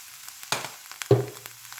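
Ham and mushroom filling seasoned with pepper, garlic and salt gets stirred in a pan, a couple of quick scraping strokes and a brief clatter over a soft sizzle, fairly quiet.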